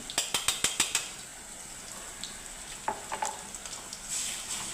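Onions and green chilies fry with a spoonful of ginger garlic paste, opening with a quick run of sharp spoon taps against the pan, then a soft steady sizzle with scattered stirring clicks.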